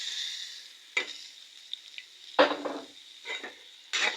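Fish goes into a hot pan for a Bengali curry with yardlong beans and potatoes. Soft sizzling runs underneath, broken by a few sharp clatters and scrapes of a utensil against the pan.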